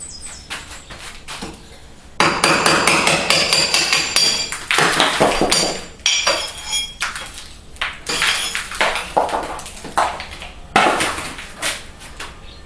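Hammer blows chipping plaster off a cracked wall, a rapid series of sharp, loud, close impacts with scattered crumbling debris between strikes.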